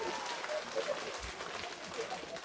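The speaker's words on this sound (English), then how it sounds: "Let's clap him out, Ben." An audience applauds a speaker at a commerce roundtable: a steady wash of clapping from a crowd, with voices talking over it throughout.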